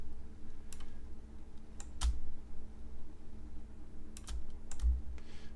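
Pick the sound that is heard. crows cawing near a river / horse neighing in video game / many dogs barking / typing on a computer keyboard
typing on a computer keyboard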